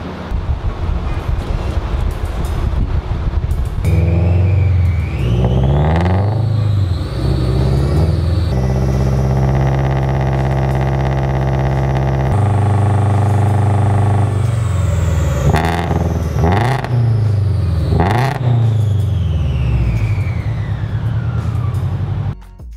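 A car on a Dynojet chassis dyno in stock tune revs hard through a full pull, engine pitch sweeping up through the gears with shifts, loud and close, then falling away at the end.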